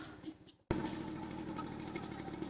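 A motorcycle engine abruptly kicks in and roars steadily at close range after a brief quieter moment, staying loud and continuous.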